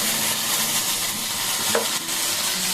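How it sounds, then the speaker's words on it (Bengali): Okra frying in a pan with sesame and spices, stirred with a utensil: steady close sizzle throughout, with a spoon scrape and a few soft clicks against the pan, no voices. "আবার নাড়াচাড়া করে দেবো যাতে ভেন্ডিগুলো খুব ভালো মতো সিদ্ধ হয়ে যায়।"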